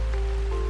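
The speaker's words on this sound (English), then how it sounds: "The rain continued to fall, but it seemed lighter now, like a distant lament." Steady rain falls with a dense, continuous hiss and a low rumble, heard without voices over a very short stretch.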